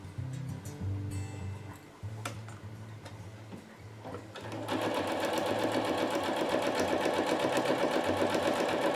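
Sewing machine stitching Hyper D nylon ripstop for an ultralight hammock, starting with slower uneven runs and then settling into a steady fast rhythmic clatter, close and prominent with no talking.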